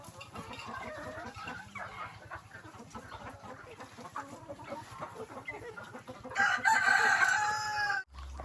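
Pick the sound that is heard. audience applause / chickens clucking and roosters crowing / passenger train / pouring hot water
chickens clucking and roosters crowing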